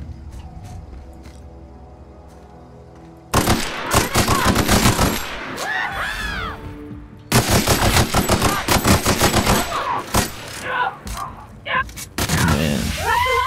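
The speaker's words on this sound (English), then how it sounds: "That shock cannon really is power when your companion uses it" Rapid bursts of gunfire from a shock cannon fired by a companion in The Outer Worlds video game, loud clattering volleys in two long stretches with sweeping electronic effects, after a quieter opening.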